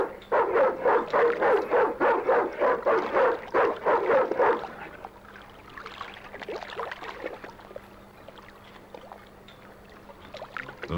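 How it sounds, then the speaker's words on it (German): A dog barking in a 1997 video game demo, a rapid run of about a dozen loud, rhythmic barks that stops abruptly and gives way to quieter background game sounds. "Oh, ein Hund."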